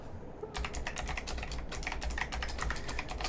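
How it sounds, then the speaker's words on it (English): Rapid, continuous typing on a HyperX Alloy Origins Core optical-switch mechanical keyboard starts after a brief pause, each keystroke a crisp, clacky click up close. "It kind of has this metallic ting ting sound every now and then as you're typing"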